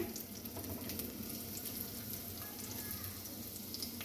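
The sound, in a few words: ginger and garlic frying in hot oil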